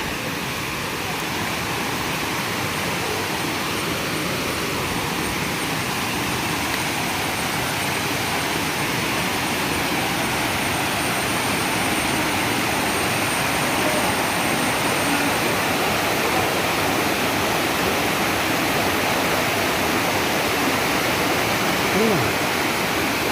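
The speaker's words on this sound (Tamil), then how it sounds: "அந்த ஒரேக்கர் வாட்டர் ஃபால்ஸ் நம்ம போய்கிட்டு இருக்கோம்" Rushing water at Orekkar waterfall in a forest, a steady, loud, broadband roar that holds evenly throughout with no pauses, heard from near the base of the falls.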